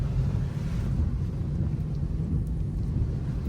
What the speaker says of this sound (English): It's just windy as hell out here.